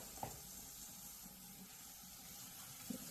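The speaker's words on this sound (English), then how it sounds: "Just rinsing off the parts, the lid," Juicer parts, including the lid, are rinsed under a running sink tap. A faint, steady stream of water plays throughout, with a couple of soft knocks from the parts.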